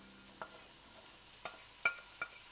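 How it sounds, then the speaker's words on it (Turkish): Mushrooms sautéing with garlic in a pan give a faint background sizzle, broken by a few sharp scrapes and taps of a utensil stirring, spaced irregularly and heard alone. "Şimdi mantarlarımı da böyle soteleyeceğim güzelce"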